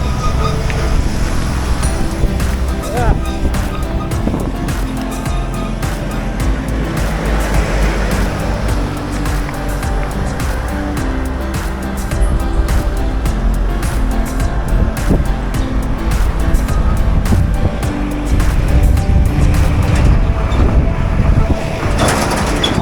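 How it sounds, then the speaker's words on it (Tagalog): Steady road traffic rumble on a highway from Manila toward Bicol, a continuous low engine and tyre drone with passing vehicles throughout, loud and close as if heard from inside a moving vehicle. "Ito yung lagi nagkaka-traffic, oh."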